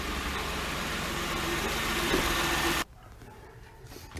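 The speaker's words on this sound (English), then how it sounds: "right now the car is it's idling fine like it used to" A 2004 Lexus RX330 engine runs at a steady, even idle after an ignition coil repair for nearly three seconds, then cuts to much quieter background sound.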